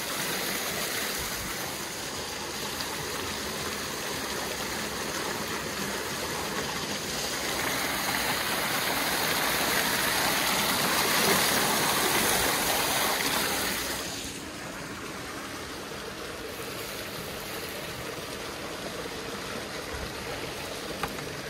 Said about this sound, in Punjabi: ਆਪਾਂ ਤਾਂ ਦੇਈਏ ਆਪਣੇ ਬੂਟਿਆਂ ਨੂੰ ਪਾਣੀ।